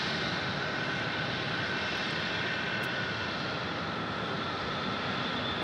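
An Embraer E175 jet airliner landing at Phoenix Sky Harbor Airport gives a steady, loud engine roar and rushing noise that holds evenly throughout, with no voices.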